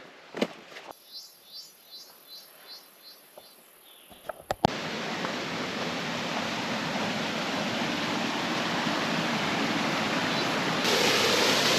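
Jungle waterfall on a hike: faint rhythmic insect or bird calls at first, then a sudden, steady, broad rush of falling water that fills the scene and grows slightly louder toward the end.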